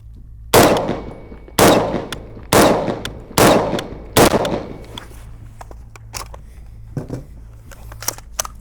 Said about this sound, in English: So to demonstrate that recoil, I'm gonna fire a few rounds for you guys.